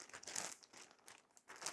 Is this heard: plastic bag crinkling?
yes